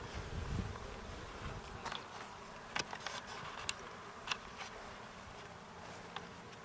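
Bees working apple blossoms in spring give a faint, steady insect hum in the open air, with a few light clicks and rustles over a low outdoor background.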